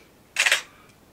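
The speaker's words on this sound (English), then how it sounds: "the first exposure you'll just hear the shutter" A single crisp shutter release from a Canon EOS 10 film SLR in multiple exposure mode, with no film wind-on following, a short close mechanical snap in a quiet room.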